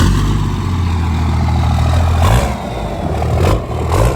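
A Cummins diesel truck with a new 5-inch exhaust runs close by with a loud, deep, steady drone and a slight rise and fall in revs; no talking.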